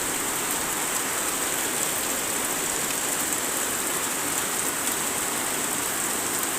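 Heavy rain pours steadily with strong gusting wind before dawn at around 4 a.m. in West Sulawesi, a dense, continuous roar that stays loud and even throughout with no voices.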